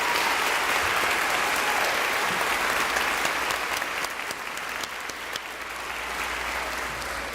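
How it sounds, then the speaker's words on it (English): An audience at an elementary school Blue Ribbon ceremony applauds steadily for about seven seconds, a dense, even wash of clapping from many hands that holds its level throughout. "Can we give Mrs. Ballas a round of applause for all she does?"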